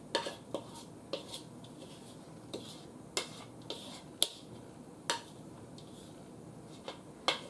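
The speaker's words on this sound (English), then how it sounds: "this is also the great time when you want to scrape your bowl." A spatula scrapes apple oatmeal batter from a mixing bowl, making irregular sharp clinks and taps of utensil on bowl, close and clear with no talking.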